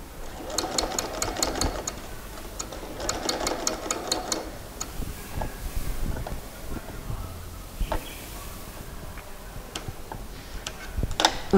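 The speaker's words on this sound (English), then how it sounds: "edge stitching this because we shall now stitch it down" A sewing machine edge stitches fabric for a pair of shorts, running in two quick rhythmic bursts of rapid ticking stitches, followed by quieter handling noises and scattered clicks.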